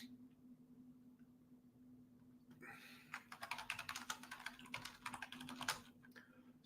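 Rapid keystrokes on a computer keyboard start a few seconds in and keep going as a dense, irregular clatter over a steady low electrical hum, fairly close and moderately loud.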